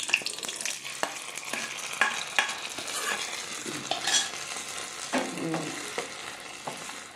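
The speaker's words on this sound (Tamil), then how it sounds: "இதுவும் இப்போ பொன்னிறமாக தான் வறுத்துருக்கேன்" Raisins and other ingredients for rice payasam are stirred while roasting golden in a pan, with a constant sizzle of frying broken by close, repeated scraping strokes of a spoon.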